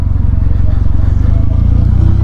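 A Kawasaki W800 motorcycle's parallel-twin engine thumps loudly and close at low revs, a steady pulsing rumble as it pulls away under throttle.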